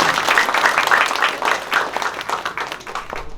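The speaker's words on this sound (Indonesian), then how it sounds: "Tepuk tangan untuk itu, Bapak." An audience at a Bali pasraman anniversary gathering bursts into applause, giving brisk, close, fairly loud clapping that fades slightly toward the end.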